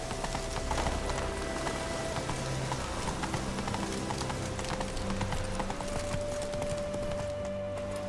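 Hooves of Roach, the horse in The Witcher 3: Wild Hunt, beat a steady rapid clip-clop at a gallop, with a soft patter of rain underneath throughout.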